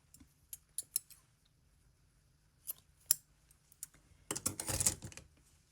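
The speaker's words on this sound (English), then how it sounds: "I'm going to cut the yarn." Scissors snip yarn in a quiet room, a few soft isolated clicks and rustles, then a brief louder burst of crisp cutting and handling noise near the end.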